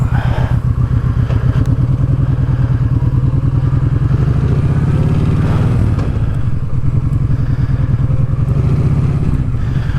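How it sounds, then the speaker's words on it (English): A Kawasaki Vulcan Vaquero motorcycle engine runs loud and close, with a continuous rumble and one swell of revving partway through under a clattering rattle, and no talking. "Get a terrible rattle on this from the side when you rev it, accelerate."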